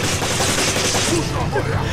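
Rapid automatic gunfire from a Gatling gun enemy in Resident Evil 5, a dense continuous burst of shots lasting about two seconds, fairly loud and close.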